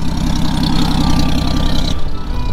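Worn-out old car engine with a worn distributor idling, loud and close, with a steady rough low chug and a faint high whine that drops away near the end.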